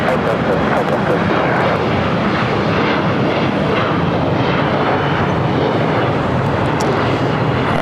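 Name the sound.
Lufthansa Airbus A380 jet at LAX airport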